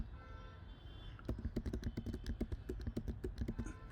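Python code is typed on a computer keyboard in quick, even bursts of close, faint key clicks after a brief quiet pause, with no voices.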